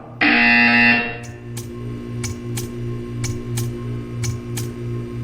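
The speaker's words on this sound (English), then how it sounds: "You will hear a buzzer." A loud, harsh buzzer from the video game Portal 2 blares for about a second, then stops, leaving a low hum and a regular series of sharp ticks.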